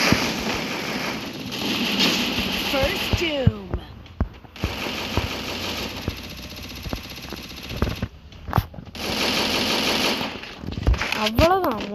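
Automatic weapon fire from the Free Fire mobile shooter rattles in long, loud bursts during a Clash Squad ranked match, with short gaps and game sound effects between volleys.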